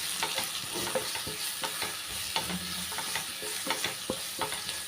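Onion, tomato and spice masala with garam masala and chili powder sautéed in a pan for soya chunk curry, with a steady sizzle under repeated scraping, clattering spoon strokes close by.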